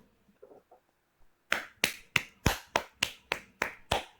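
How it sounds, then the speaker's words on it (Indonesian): Hands clapping in a quiet room, eight sharp evenly spaced claps after a few soft taps and faint rustling. "Tepuk tangan"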